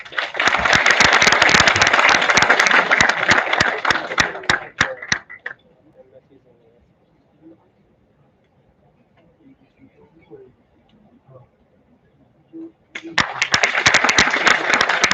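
A crowd bursts into loud applause for several seconds at an international conference, fades into quiet room murmur, then another round of clapping swells up near the end.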